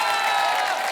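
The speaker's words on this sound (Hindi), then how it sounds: "जोरदार तालियां।" A short, dense wash of applause with crowd noise from a TV comedy show studio audience, loud and steady for the whole second.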